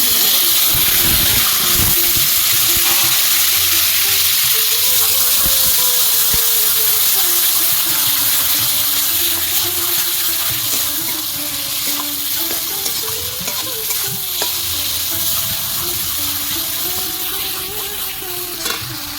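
Banana flower paste frying in oil in a pan and being stirred, giving a steady loud sizzle broken by repeated scraping stirs, close up and without speech.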